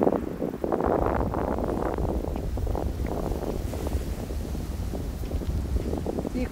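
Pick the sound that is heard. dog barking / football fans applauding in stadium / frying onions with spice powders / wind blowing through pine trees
wind blowing through pine trees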